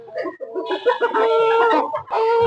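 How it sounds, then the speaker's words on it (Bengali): A European Silkie Black chicken clucks close by in a series of short, throaty calls that run into a longer, drawn-out cackle, with a brief pause before it resumes. "এখন যেটা দেখাচ্ছি এটা হলো সিল্কি ব্ল্যাক।"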